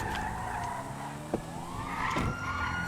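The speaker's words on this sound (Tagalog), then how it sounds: "Parang may wangwang ah" Police siren in a city roleplay video game, wailing in rising and falling sweeps at moderate distance over engine and tyre noise, with no talking.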